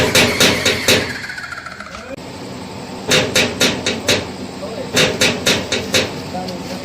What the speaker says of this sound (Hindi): देखो दरवाज़ा खटखटा रहा है।